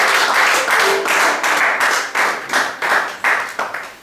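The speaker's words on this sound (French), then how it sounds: "Est-ce qu'on peut acclamer Jésus?" A church congregation claps and applauds to acclaim Jesus during a French-language sermon, a steady run of loud, close clapping with rhythmic surges and no speech over it.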